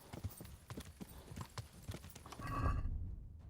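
Horse hooves clip-clopping at a steady gait, then a loud whinny near the end, in the medieval game Kingdom Come: Deliverance, with faint background sounds and no talk.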